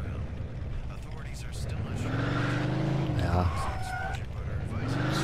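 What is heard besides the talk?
car driving in the video game Mafia 2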